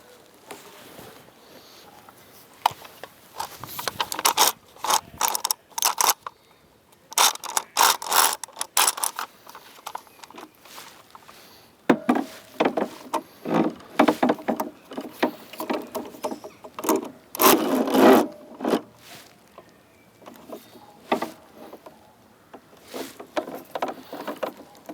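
Clamps being cranked tight across a wooden shelving unit give off bursts of scraping, creaking and knocking in irregular clusters, close and fairly loud, with quieter gaps between them and no talking.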